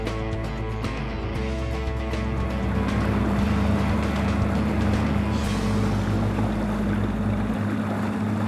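A steady engine on a 552 motorboat drones loudly and close throughout, with rushing water and wind noise over the low rumble.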